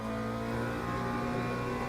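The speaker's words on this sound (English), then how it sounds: "Man, that's the tire sounds and the traction control heading." Steady engine drone of a GT3 race car in Le Mans Ultimate, with tire noise and traction control cutting in, holding a constant loud level throughout with a brief surge at the very end.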